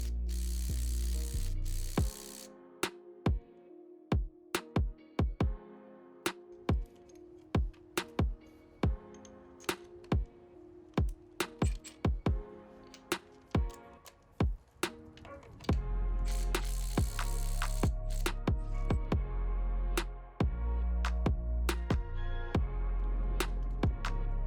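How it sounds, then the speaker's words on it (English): A Ryobi 18V One Plus brushless impact driver tightens a fastener with loud, rapid rattling hammer bursts. Separate short runs and taps lead into two longer sustained stretches of impacting. "Now I'm going to tighten using the Ryobi and see if the Milwaukee will be able to remove it."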